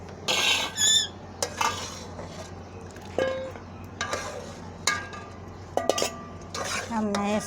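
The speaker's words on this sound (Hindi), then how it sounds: "अब मैं इस बर्तन में यखनी निकाल रही हूँ।" Chicken yakhni broth being ladled from a cooking pot into another vessel, metal ladle scrapes and clinks against the pots in irregular bursts with liquid sloshing between, close and moderately loud.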